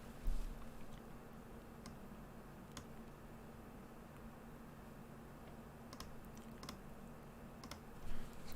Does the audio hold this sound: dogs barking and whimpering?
no